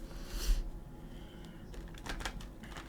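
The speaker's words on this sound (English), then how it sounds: "but I'm going to give it a couple shuffles for you" Tarot cards are shuffled in a few quick riffling bursts, soft crisp paper patter close up against a quiet room hum.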